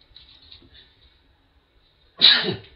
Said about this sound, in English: I got to sneeze, I believe.